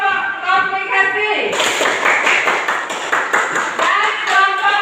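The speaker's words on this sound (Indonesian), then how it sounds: "Tepuk tangan untuk kelompok komplikasi." Students clapping for a group during a class project presentation, rapid overlapping claps with sharp taps, close and loud, partly under lingering tonal sound and voices.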